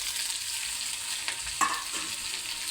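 Chopped green chilies fry with garlic cloves in a pan for an okra stir-fry, a close, loud sizzle punctuated by a few sharp stirring scrapes, with no talking.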